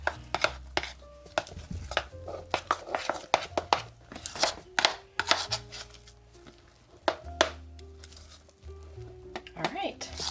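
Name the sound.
stirring cheese into keto taco dough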